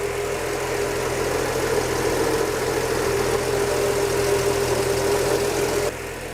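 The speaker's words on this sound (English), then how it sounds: "So there it is at cold idle." A 1967 Ford F-100 service truck engine idles cold, a steady, rough mechanical drone with a low rumble and a constant hum, close and loud, dropping slightly near the end.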